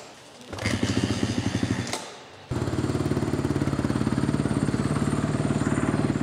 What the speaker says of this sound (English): this right here is a Kickstarter, and I have to kick it to be able to start it